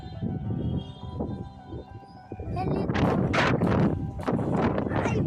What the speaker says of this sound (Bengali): বাতাস কারে কয় বাতাস কারে কয় একবার দেখো।